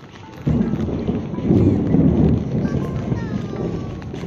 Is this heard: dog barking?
no